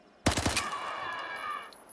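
A quick burst of several loud gunshots from a S.T.A.L.K.E.R. shooter game, three or four closely spaced cracks followed by a ringing, whining tail that fades over a second.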